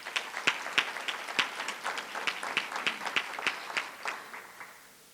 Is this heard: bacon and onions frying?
no